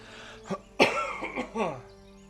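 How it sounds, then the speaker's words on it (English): A single rough cough, with a short throat-clearing burst around it, comes up close during a Baldur's Gate 3 game stream, with a faint background hum. "Excuse me for that ugly cough."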